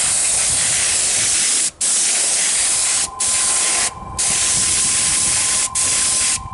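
Spray gun hissing steadily as it applies tooling gel coat to a quarter-scale truck, loud and continuous with a few short pauses between passes.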